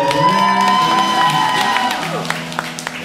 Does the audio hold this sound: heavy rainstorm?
no